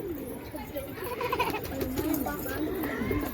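Pigeons coo in low, rolling calls nearby while outdoor background noise and faint human voices continue underneath.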